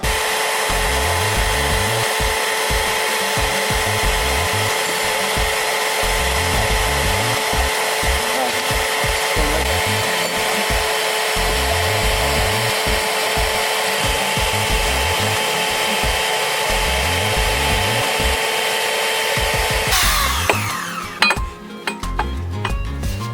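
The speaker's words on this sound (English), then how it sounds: "It's a portable bandsaw." A portable bandsaw cuts metal during a foundation repair with helical pier posts, running as a loud steady whine with rhythmic grinding pulses for about twenty seconds before rattling clanks as the cut finishes.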